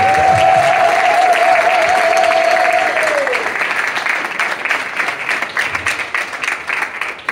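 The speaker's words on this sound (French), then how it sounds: "Est-ce qu'on peut faire un tonnerre d'applaudissements pour ces autres?" A loud audience applauds throughout with steady broadband clapping, thinning toward the end, and a sustained whistle-like tone rides over it during the first three seconds.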